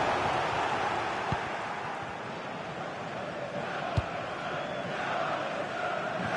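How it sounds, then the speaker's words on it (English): A football crowd at a friendly match roars steadily from a distance in a dense, continuous wash of cheering, with a couple of brief thuds breaking through. "the crowd is certainly trying to motivate the team to push them forward to get the equaliser"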